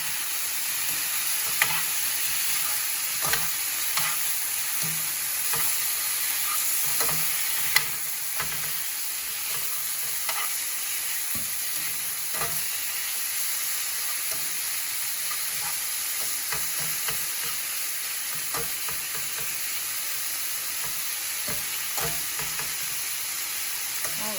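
Protein for gua bao fries on high heat in a pan, a steady broadband sizzle with scattered scraping clicks of stirring throughout, close and continuous, with no talking.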